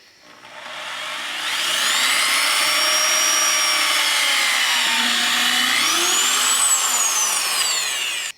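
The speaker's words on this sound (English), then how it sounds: "now you have to drill out the holes you marked earlier" A power drill boring holes through a vehicle for a Street Trends bumper install, running steadily and close with a sustained whine that shifts pitch partway through, heard alone without talk.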